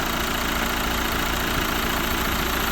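A Nissan NV200 1.5 dCi diesel engine idling, a steady, loud, close mechanical drone that holds constant for the whole stretch with no talk.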